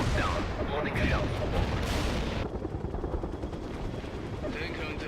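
Artillery precision strike in World in Conflict: a dense, loud rumble of blasts and gunfire-like crackle that drops in level midway, with helicopter-like drone and game chatter mixed in.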